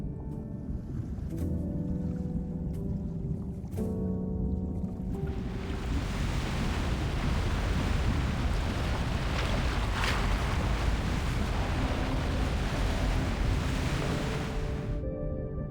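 Strong ocean waves surge in the video game Love and Deepspace, a broad rushing wash of water and wind that swells in after a few seconds and roars steadily before cutting off.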